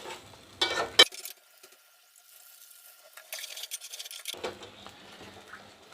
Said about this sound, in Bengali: 3টা কাঁচামরিচ দিয়ে একটু কষায় নিই।